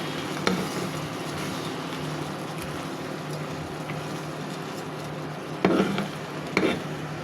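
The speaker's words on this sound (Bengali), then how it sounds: "নাড়াচাড়া করে দিব" A spoon stirs shrimp masala in a pan, a low, steady simmering sizzle with a few sharp scraping knocks of the utensil against the pan near the start and end.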